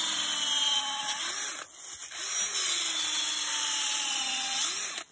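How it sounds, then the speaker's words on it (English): A power drill bores holes down into the wood of a large camphor laurel tree with a steady high-pitched whine, briefly easing off midway and stopping near the end. "we're mainly drilling downwards so that the hole can hold the herbicide"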